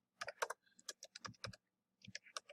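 Computer keyboard typing in a quiet room, a quick run of crisp individual key clicks in two short bursts separated by a brief pause, close and clear with no talking.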